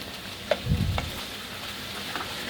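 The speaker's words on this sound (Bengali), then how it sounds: "আমি লবণ আর হলুদের গুঁড়া দিয়ে ভালোভাবে নেড়ে একটু ভেজে নেব।" Ash gourd pieces frying in oil with salt and turmeric, a soft steady sizzle with a couple of spatula scrapes and a brief low thump as the pieces are turned.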